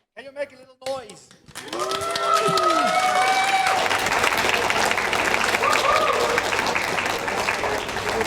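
Online furry convention audience cheering and making noise, a sustained wash of crowd noise and applause that swells after a short opening and holds loud and dense to the end, with a few whistle-like tones early on.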